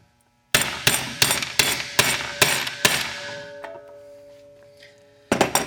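A hammer taps a bearing into a harness-racing sulky wheel hub: seven sharp, close metallic strikes in an even rhythm, leaving a ringing tone as they fade, then one more hit near the end.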